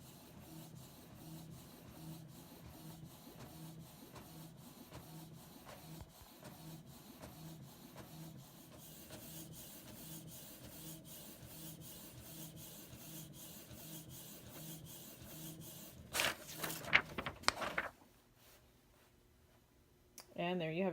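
A Canon Pixma TR7520 printer prints a sheet of graph paper, a long steady mechanical whir with rhythmic feed noise, then a louder rattling burst as the page exits before going quiet.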